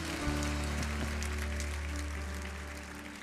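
Congregation applauding during an evening service at Igreja Batista Lagoinha, a soft, continuous patter of clapping over a steady low organ-like drone and sustained musical tones, fading slightly toward the end.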